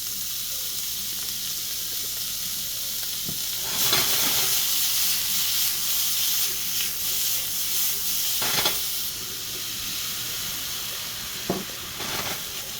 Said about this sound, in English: Oh yeah, listen to that sizzle.